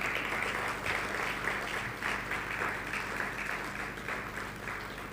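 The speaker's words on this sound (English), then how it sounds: "Keep clapping to take the stage." Sustained audience applause fills a hall at a TotalEnergies Startupper awards ceremony in Nigeria, a steady dense wash of many hands clapping at moderate volume throughout.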